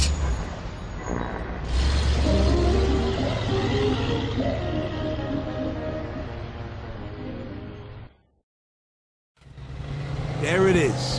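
A car engine in the Mafia 2 video game drives and idles at steady volume for several seconds, with in-game voices talking over it, then drops away briefly before returning.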